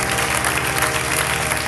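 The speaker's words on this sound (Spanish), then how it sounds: "Dele un aplauso al Señor con todo su corazón" A church congregation claps together, a dense and steady burst of applause from many hands, loud and continuous for a couple of seconds with no talk over it.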